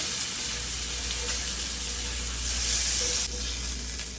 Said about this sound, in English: flip our shrimp over and allow it to cook on the other side as well